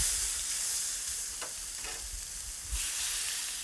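Steak sizzles and crackles on a hot barbecue grill, a steady close frying hiss with a few sharper pops, heard alone without talk.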